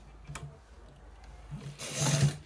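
A sewing machine stitches a fabric pocket: faint mechanical ticks first, then a short, louder whirring run of stitches near the end, close by and without talk.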